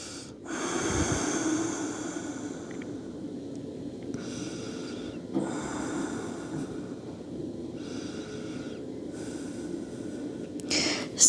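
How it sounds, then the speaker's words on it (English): Long, deep breaths during a vinyasa yoga flow, several slow inhales and exhales in steady rhythm, close and fairly loud, with no talking. "Taking 3 long breaths here."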